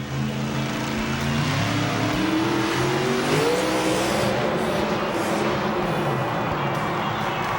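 A demolition derby car engine keeps running after a crash, a loud continuous motor drone with rising pitch sweeps, heard up close against a busy arena background.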